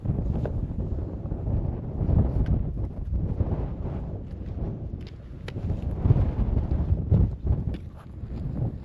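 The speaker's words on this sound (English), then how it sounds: "And do you hear the wind?" Wind gusts across a mountain hiking trail in Sweden near Grövelsjön, buffeting the microphone in uneven rumbling waves, loud and close, with no talking.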